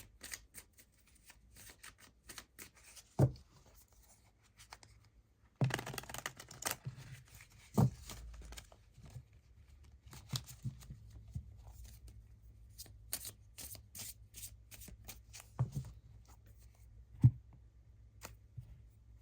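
Tarot cards are shuffled and handled in quiet bursts of soft riffling and flicking, with occasional sharper taps of cards on a surface.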